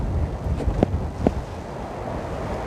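Wind gusting at a seaside fishing spot by Cheollipo beach in Taean during a high-wind advisory, a steady rumbling rush against the microphone with a couple of brief louder gusts, no talking.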